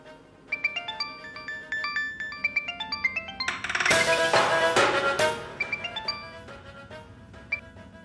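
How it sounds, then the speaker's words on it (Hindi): Mobile phone ringtone plays a bright, repeating electronic melody, loud and close, with a busier burst midway and no talking over it. "घर से फोन होगा।"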